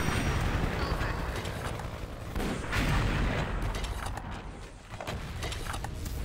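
Rapid gunfire crackles in the online shooter game XSHOT, with sharp repeated shots and heavier bursts spread over a steady background of game noise and occasional voice.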